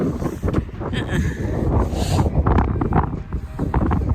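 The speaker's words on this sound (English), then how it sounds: "so this breeze I can't manage" A stiff breeze blows at an outdoor park, buffeting the microphone with steady, loud rumbling wind noise for the whole span, with brief voices faintly in the mix.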